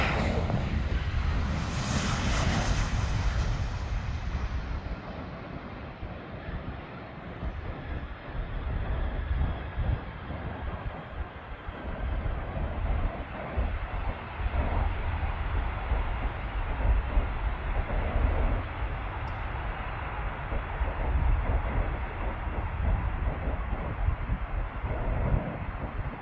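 A United Boeing 737-900 airliner lands at Cherry Capital Airport in Traverse City, a loud, sustained roar of engines and rushing air that holds broadly for the whole stretch, with no talk over it.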